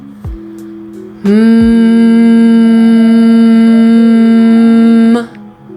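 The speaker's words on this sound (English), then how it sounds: "we'll open the voice a bit with a hum" A single sustained hum held steadily for about four seconds, a clear, even voiced tone with rich harmonics, preceded by brief soft noises.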